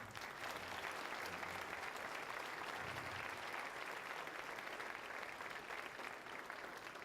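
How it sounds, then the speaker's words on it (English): A large audience at a State of the City event gives sustained, even applause for veterans, dense clapping holding steady throughout without a break. "Another round of applause for our veterans"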